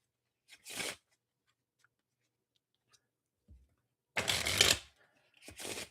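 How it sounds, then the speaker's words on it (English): Riffle shuffles of a tarot deck with thick card stock, short crisp bursts of fluttering cards separated by quiet pauses, close and clear, with no talk. "if you're riffle shuffling it, it can be a little hard on the hands"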